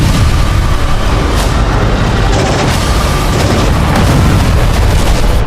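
Wartime explosions in Gaza: a dense, loud, continuous roar of blasts and rumble with no clear breaks and no voices.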